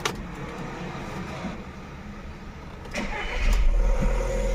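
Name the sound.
Volkswagen Vento car engine starting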